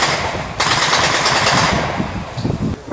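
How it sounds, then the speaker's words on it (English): A Browning Mark II .303 calibre aircraft machine gun, the standard British WWII aircraft gun, fires blanks in a loud, close, rapid continuous burst that churns on for over a second before trailing into scattered mechanical clatter. "We just test fired some blanks."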